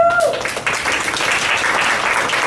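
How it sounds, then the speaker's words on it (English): Audience applause at a City Club debate on single-payer health care in Oregon, a sustained, even burst of many people clapping that fills the room. "Let's hold your applause for the end"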